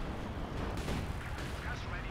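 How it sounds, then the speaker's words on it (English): Katyusha rocket artillery fires in Company of Heroes 2, a steady rumbling wash of launches and distant blasts under a talking voice, with a few sharper bursts rising out of the roar. "Katusha fire coming on in to kind of break up a lot of their stuff"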